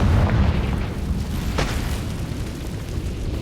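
A Confringo spell explosion in Hogwarts Legacy lands with a heavy booming blast at the start, then a rumbling burning tail that fades slowly over a few seconds.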